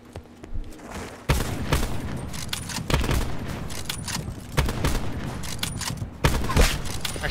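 Sniper rifle shots in a one-on-one video game match ring out as sharp, loud reports at irregular intervals, with dense clattering game noise between them.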